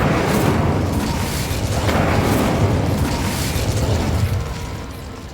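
A fiery Incendio spell blast erupts loudly in Hogwarts Legacy, a sustained roaring burst of flame and booming crackle lasting several seconds before tapering off at the end.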